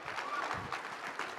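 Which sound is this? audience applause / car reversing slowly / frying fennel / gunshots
audience applause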